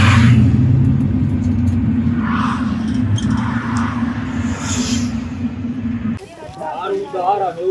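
Taxi ride in Georgia, a continuous low engine and road rumble heard from inside the car, ending abruptly before voices take over at the close; faint talk runs throughout.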